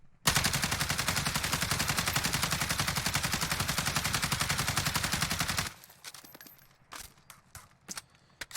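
Sustained automatic fire from an AUG rifle in Call of Duty Warzone, a rapid, evenly spaced burst of loud shots lasting over five seconds, followed by a few scattered clicks and clinks as the firing stops.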